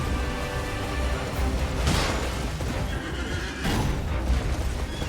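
A horse in Elden Ring gives a loud, close whinny twice over a dense, rumbling game soundtrack, with faint hoof clatter beneath.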